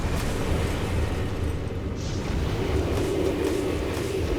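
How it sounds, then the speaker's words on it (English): A mini nuke goes off in DC Universe Online, a steady roaring rumble of blast and debris that stays loud and dense throughout, with no distinct onset and no voices over it. "We're gonna hit a mini nuke."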